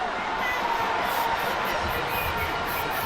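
A crowd roars and cheers continuously at an Independence Day celebration in Kumasi during a military cadet and armed forces display, a dense, steady wall of voices with no breaks.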